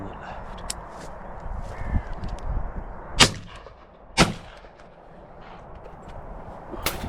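Shotgun blasts aimed at crows ring out outdoors: two loud, sharp reports a second apart, then a third near the end, over a low background rumble of wind and movement.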